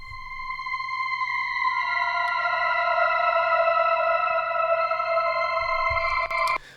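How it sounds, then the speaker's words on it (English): A sustained, airy vocal pad holding layered chords, smooth and reverberant, swelling slightly midway and continuing steadily with no other sounds. "Just a vocal pad, but it sounds nice underneath the rest of this"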